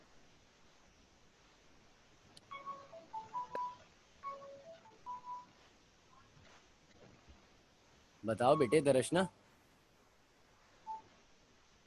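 A telephone's touch-tone beeps ring out loudly for about a second during an online class call, standing out from a teacher's quieter talking before it.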